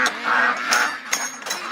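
Ducks quacking in repeated short bursts at moderate distance, with the calls spread through the clip over a steady outdoor background.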